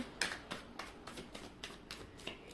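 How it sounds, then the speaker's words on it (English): A deck of oracle cards is riffled and shuffled in quick, repeated crisp bursts, roughly one every quarter second, close and fairly quiet, with no talking. "Okay, I'll take one last shuffle."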